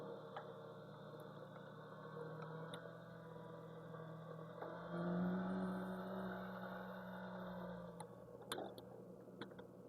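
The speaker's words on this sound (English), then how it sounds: "So I accelerate" A car engine in a driving simulator game hums and swells as it accelerates, with the pitch rising mid-way and then easing back. The sound is quiet and steady, with a few faint ticks and clicks and no talking.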